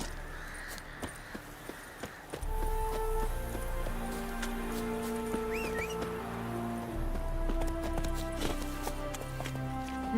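Hooves of the horse Roach clip-clop rhythmically in The Witcher 3: Wild Hunt video game, a fast steady gallop close by over soft game music, with occasional faint birdsong.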